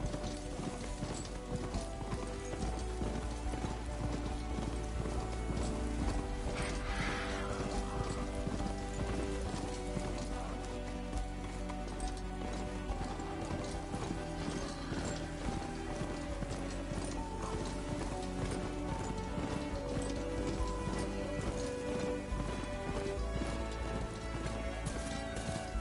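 Steady, rapid hoofbeats of a ridden mount in Horizon Forbidden West clatter continuously over a dense, busy game soundscape with a rain-like hiss, loud and unbroken throughout.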